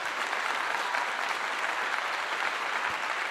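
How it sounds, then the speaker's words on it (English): An audience claps in dense, even applause, moderately loud and continuous, with no talk over it. "I give you all a clap."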